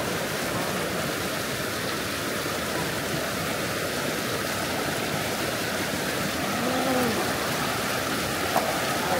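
Flash-flood stream water rushes past in a dense, loud, continuous roar, with brief faint sounds briefly rising above the torrent near the end.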